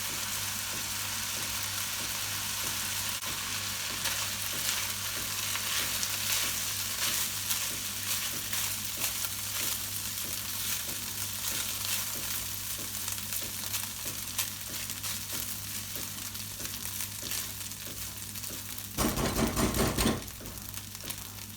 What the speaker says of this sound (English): I'm leaving it on a medium to low heat for now, and I'm just going to give it a quick stir every now and again.